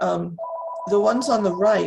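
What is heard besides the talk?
telephone ringing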